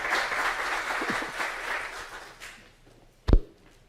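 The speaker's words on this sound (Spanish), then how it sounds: "deberíamos darle un aplauso de bienvenida y agradecerle su presencia con nosotros" Welcome applause in a hospital hall for a visiting mental-health speaker, a fairly quiet wash of clapping that fades after about two and a half seconds, followed by a single sharp thump near the end.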